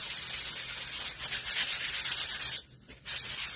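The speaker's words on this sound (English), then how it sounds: "And I'm just lightly sanding with this" A 220 grit sanding block rubs lightly over painted wood on a door hanger, a close, steady scratchy rasp in quick back-and-forth strokes with one brief pause near the end.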